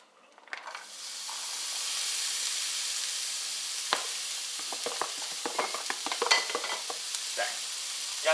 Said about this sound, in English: Okay, now we're gonna be sauteing the veggies next.